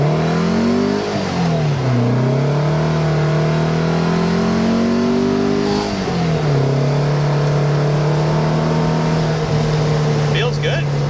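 1967 Volkswagen Beetle accelerating hard, a loud close engine roar climbing through the revs with a dip at each gearshift, then holding a steady high drone, with someone talking over it.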